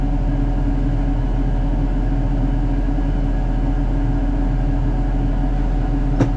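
A tractor engine drones loud and steady at high revs during sowing of field beans, a dense continuous rumble with a brief sharp click near the end and no voices.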